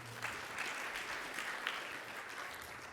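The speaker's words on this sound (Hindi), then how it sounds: "इनके लिए आपको जोरदार तालियां बजानी चाहिए" An audience at a Shrimad Bhagwat Katha gathering in a community center claps together in a soft, steady patter, a fairly quiet wash of hands that lasts a few seconds without any voices over it.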